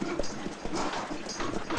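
Horses' hooves clip-clop on the ground in a western film scene, a close, uneven run of knocking steps repeating through the short stretch.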